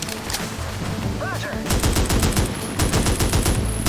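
Rapid AK rifle fire crackles in dense bursts in the video game A.W.O.L., loud and close, with a brief whistling tone just before the shooting starts.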